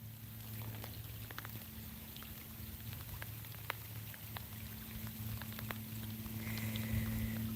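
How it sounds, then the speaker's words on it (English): Light rain begins to fall during a fishing outing, with sparse drops pattering faintly. A low, steady hum runs underneath the drops throughout. "it's starting to rain again"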